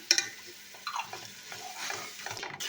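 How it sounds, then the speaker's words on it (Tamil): Garlic sautéing in a pan for Ambur-style chicken biryani, giving a soft, intermittent sizzle with light stirring scrapes and utensil clinks. The sound stays close and fairly quiet, with no talk. "பூண்டு சேர்த்து ஒரு தேர்ட்டி செகண்ட் வதக்கலாம்"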